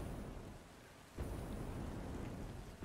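Steady rain pours in a desert area in the video game Satisfactory, a dense, continuous hiss with a rumbling low swell partway through, like distant thunder, with no voices.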